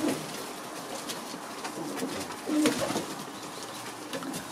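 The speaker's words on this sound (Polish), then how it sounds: "Ogromny gołąb." A large young pigeon gives low, soft coos in short bursts against faint background noise, with one fuller coo near the middle.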